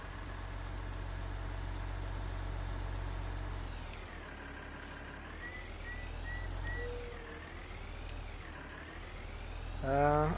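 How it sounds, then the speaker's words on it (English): A tractor engine idles and revs gently in the Farming Simulator 19 video game, a steady low drone with rising and falling pitch, thin and somewhat weak in character, continuous and fairly close throughout with a brief louder swell at the end. "I think the engine sound definitely could use some work."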